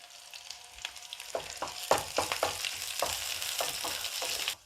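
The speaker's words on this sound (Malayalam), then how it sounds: "നമ്മുടെ ചെറിയുള്ളി മൂത്ത് വരുന്നുണ്ട്. അപ്പോൾ നമുക്ക് കറിവേപ്പിലയും വറ്റൽമുളകും കൂടെ ഇങ്ങിടാം." Shallots, curry leaves and dried red chillies frying in hot oil for a tempering, a steady close sizzle with sharp crackling pops as the leaves and chillies hit the oil, no talking.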